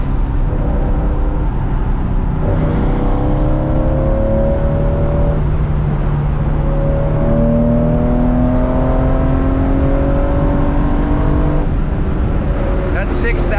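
A 1972 Porsche 911 E with a short-stroke 3.2 engine, heard from inside while driving, loud and continuous as it climbs through the revs in repeated rising sweeps, shifting between gears, with someone talking over it.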